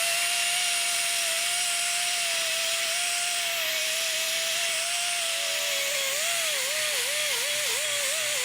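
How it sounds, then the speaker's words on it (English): A 90-degree angle grinder ports a cylinder head, a loud continuous high-pitched whine that holds steady, then wavers and dips as the bit is worked inside the port. "I like the 90-degree angle grinders like this."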